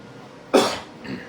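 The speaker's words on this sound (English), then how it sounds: "Sorry, I still can't kick this cough I've had for weeks." A single sharp cough, loud and close, followed by a softer throat-clearing rasp.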